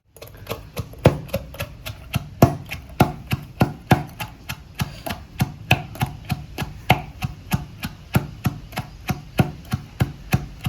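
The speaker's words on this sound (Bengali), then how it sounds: "आदा रसुन पिंज काचा लंका दर दर कूटे" Ginger, garlic and green chillies being coarsely pounded in a rural kitchen while preparing a village-style chicken and potato curry: a steady run of sharp, close thuds, about two or three per second, with no talking.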